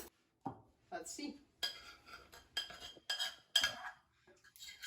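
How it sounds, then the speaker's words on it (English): A metal spoon scrapes and clinks against a pot while working sticky, glue-like tapioca dough for boba, coming as a series of short, close scraping bursts separated by brief pauses. "Metal spoon is the key to work it out of there."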